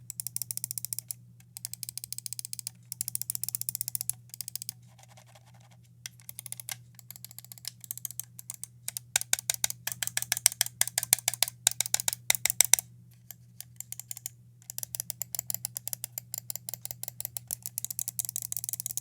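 Rapid bursts of sharp clicks from a Cougar Minos Neo gaming mouse, close and crisp, coming in quick rhythmic runs separated by short pauses, with a low steady hum underneath.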